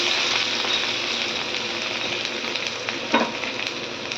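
Whole dried red chillies and crushed garlic frying in hot oil in a pan, a steady close sizzle that fills the whole stretch, with a short stirring scrape near the end.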